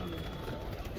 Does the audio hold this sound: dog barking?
no